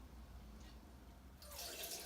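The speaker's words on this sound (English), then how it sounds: "I fill it with 1 liter of water" Water pours into a coffee maker's reservoir, a liter filled from a tap. It is faint and quiet at first, then a steady, louder splashing rush starts partway through and keeps going to the end.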